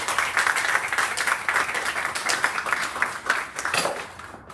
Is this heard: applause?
yes